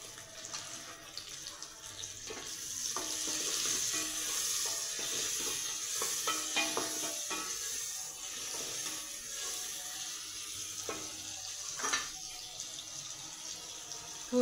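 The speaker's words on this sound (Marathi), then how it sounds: "तर ही तेलामध्ये भाजून घेते." Tomatoes frying in hot oil for mutton biryani give a steady, close sizzle with a broad crackling hiss throughout and occasional louder pops and clatters near the end.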